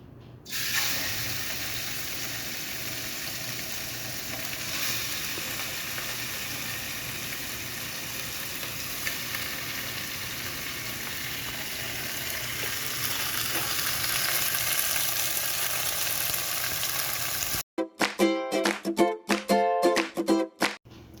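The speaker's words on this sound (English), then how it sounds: "while the meat is sealing" Meat searing in hot oil in a heavy-bottomed pot for a Posta Cartagenera dish, a steady loud sizzle throughout, ending with sharp clattering sounds near the close.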